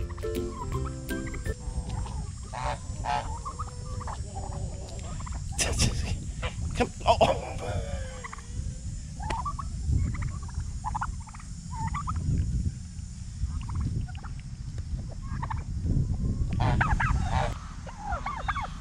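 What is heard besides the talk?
chickens clucking in a yard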